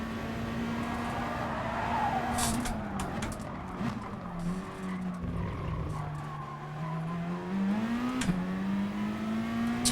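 A Porsche race car in GT Sport holds a rising and falling engine whine through corners, with tire squeal and skidding bursts breaking in at moments, steady and close throughout.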